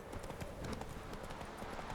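Horse hooves clip-clopping steadily as the horse Roach walks in The Witcher 3, a quick continuous rhythm of soft thuds at moderate distance, with faint voices blended in the background.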